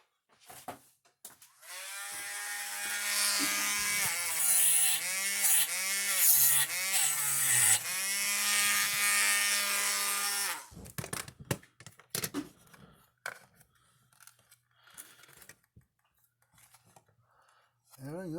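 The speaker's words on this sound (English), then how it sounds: "Let me grab a Dremel with a wire brush on it." Dremel rotary tool with a wire brush scrubbing debris off the circuit board of a Gallagher MB200 fence charger, a high buzzing whine with a wavering pitch for several seconds, then scattered clicks and faint handling noises.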